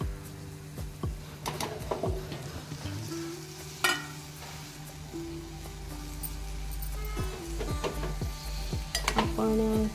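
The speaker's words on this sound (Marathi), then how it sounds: "आता आपण हे चणे टाकणार आहोत" Boiled chickpeas stirred into sizzling homemade masala in a pan for chole masala, with steady frying sizzle and repeated spoon scrapes and clinks against the pan, close and fairly loud, no talking.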